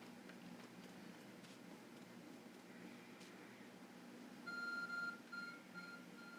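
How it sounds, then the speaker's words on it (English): A glowing object in Pokémon Legends: Arceus gives off a short run of high, clean electronic beeps, four or so in a quick uneven pattern, faint over a quiet hiss. "There's a glowing, beeping object over there."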